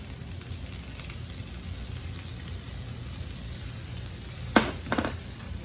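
Jalapeno added to a hot pan of browned refried-bean base, a steady close sizzle throughout with a couple of brief clatters near the end.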